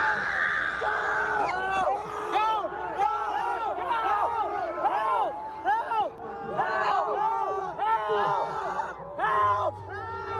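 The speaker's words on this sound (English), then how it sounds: "Now I wanted to show y'all the screams too. Listen to the scream." A crowd at a loud concert screams and yells in a dense, continuous wall of voices, played back from a recording, with shrill cries rising and falling throughout.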